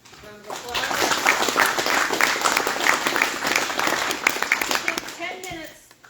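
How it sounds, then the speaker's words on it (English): A farmers' annual meeting audience applauds a local farmer presenter, steady clapping from many hands swelling in and tapering off at the end, with some voices mixed in. "let's give Dan a round of applause"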